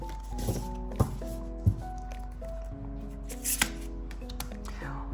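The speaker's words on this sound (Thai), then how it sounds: "เปิดไพ่เพิ่มเติมหน่อยนะครับ" Tarot cards are shuffled and dealt onto a table, a few soft slaps and quick flicks scattered over steady background music.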